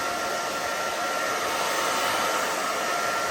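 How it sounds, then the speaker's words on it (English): A blow dryer whirs continuously at close range, a steady airy roar with a constant high whine and no voices. "So the key is to move the blow dryer, move the fingers"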